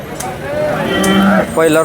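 A dairy cow at a cattle market lows loudly and close, a drawn-out moo followed by a second shorter call.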